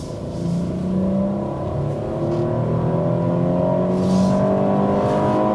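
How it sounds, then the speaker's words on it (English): A Jeep Cherokee crossover engine revs hard toward redline in manual mode, its steady rising drone running continuously with a slow, dragging gear shift partway through, heard close from inside the cabin. "That was dragging a shift if I've ever heard one."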